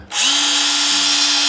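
A Makita HR140D 12V cordless rotary hammer drill runs in plain drilling mode without hammering, spinning up after a brief pause into a steady, close, continuous whine.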